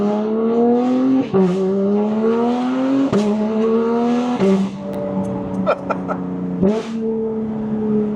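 A tuned car engine on a West Racing Map 1 tune with no burble revs loudly and repeatedly, each rising pull ending in a sharp drop as the next gear or rev starts, close and dominant.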